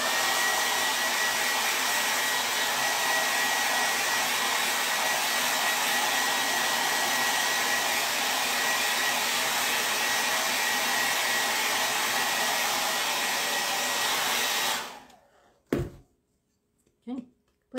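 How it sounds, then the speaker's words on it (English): A hair dryer drying paint on a wooden Easter bunny cutout blows at a loud, steady roar for about fifteen seconds, then switches off, leaving a few faint handling knocks. "I need to dry it a little bit, so this is about to get loud if you want to turn your volume down."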